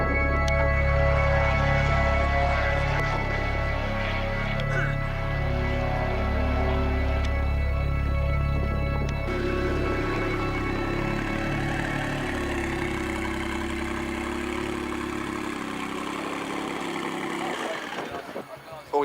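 A Lamborghini engine roars steadily and close at a classic car event, holding a heavy rumble before shifting pitch as it revs and accelerates, then cutting off near the end, with voices talking over it.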